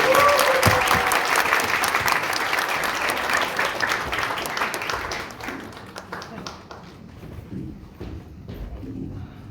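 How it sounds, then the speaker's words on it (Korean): Congregation applause welcoming a pastor at a national gathering of ministers, a loud dense crowd of clapping that carries on, then thins and fades toward the end. "박수로 환영합니다."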